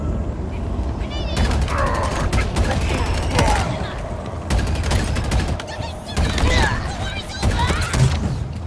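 Bursts of gunfire from weapons in Halo Infinite, loud, rapid volleys starting and stopping in several clusters, with game sounds between the salvos.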